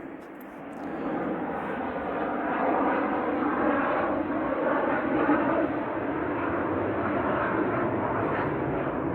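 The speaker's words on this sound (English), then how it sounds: "Sounds like a jet aircraft going overhead." A jet aircraft passes overhead above sand dunes and pine trees, a steady broad roar that swells and holds loud for several seconds with no voices.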